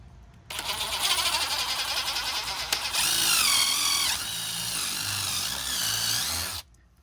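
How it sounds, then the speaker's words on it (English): A power drill whirs steadily up close for several seconds, boring a 5/16-inch hole, its pitch shifting as it bores through, then cuts off abruptly. "I'm gonna come over here to my drill. I'm gonna drill a"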